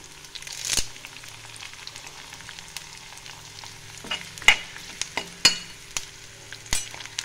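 Chopped onions and curry leaves fry in a pan for a Telugu-style ridge gourd and chana dal curry, with a soft continuous sizzle broken by intermittent scraping and stirring clatters.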